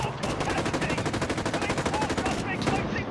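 Rapid automatic gunfire rattles in a Call of Duty: Modern Warfare 2019 match, dense and continuous bursts for a few seconds.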